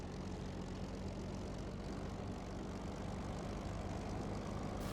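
Spitfire Mk.IX engine in IL-2 Sturmovik: Battle of Bodenplatte, a steady, even drone of piston engine and propeller holding at a constant low level throughout.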